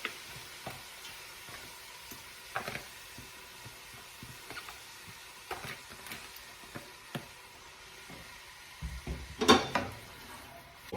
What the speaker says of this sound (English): we're just going to saute these down until they get nice and soft